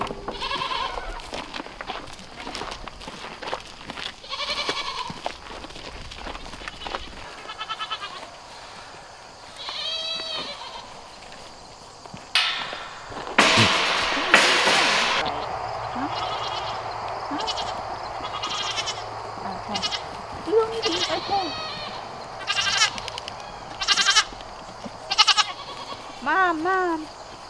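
Goats on a northern homestead bleat repeatedly near and far, loud calls scattered over half a minute, with a person talking quietly between them.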